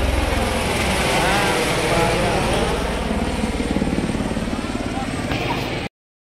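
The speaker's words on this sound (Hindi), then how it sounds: "तो भाई जी देख सकते हो मेरे पीछे हेलीकॉप्टर" A helicopter operating near the Katra helipad on the Vaishno Devi route, giving a steady, loud rotor and turbine roar with rhythmic blade chop throughout, with voices talking over it before it cuts off.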